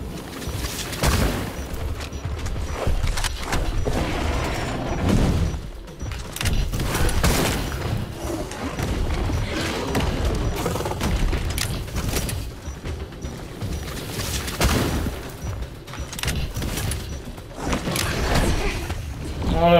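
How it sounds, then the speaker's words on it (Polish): Repeated gunfire and heavy booms ring out during a boss fight in the video game Scars Above, dense bursts of shots and impacts sustained throughout with rumbling low-end. "Ostatnie strzały."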